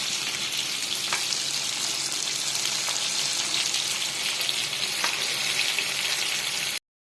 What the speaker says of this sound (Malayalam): ഇനി നമുക്ക് എല്ലാം ഒന്ന് മറിച്ചിട്ട് കൊടുക്കാം